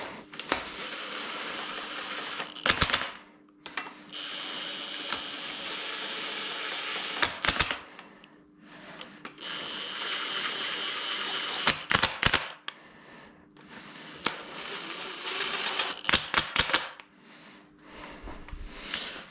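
A ratchet clicks in several rapid bursts while bolts are tightened on a Renault Megane 1 16V turbo engine being reassembled, with short pauses between runs of sharp metallic ticks up close.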